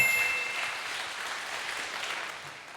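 A church congregation breaks into brief applause, a dense wash of clapping that starts strongest and gradually tapers, with a faint tonal ring in the background.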